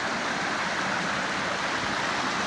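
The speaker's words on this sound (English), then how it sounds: "Beautiful little waterfalls, clear water." Rushing stream water spilling over small waterfalls at a trail crossing on the Appalachian Trail, a steady, close, broadband wash with no pauses and no voices.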